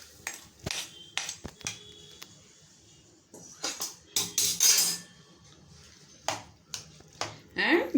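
Oil added to a mango pickle and stirred with a spoon, giving scattered metallic clinks and scrapes against a bowl, irregular and close, with a voice talking over part of it.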